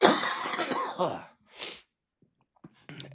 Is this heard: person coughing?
yes